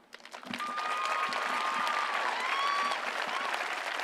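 A crowd at a women's national team water polo match between the United States and China claps steadily, swelling quickly after a quiet start and holding a dense, moderately loud ovation, with faint talk underneath.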